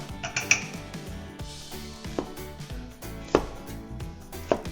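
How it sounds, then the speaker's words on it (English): Knife cutting up a cauliflower for cauliflower rice on a board, a run of close, uneven chopping thuds with a few sharp clinks, no talking. "slice the cauliflower now"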